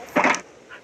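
A single short dog bark from Minecraft, one sharp close yelp followed by a faint softer echo-like whimper.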